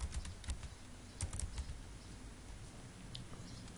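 Keys clatter on a computer keyboard in quick, irregular bursts of light clicks, close and fairly quiet, with the taps thinning out toward the end.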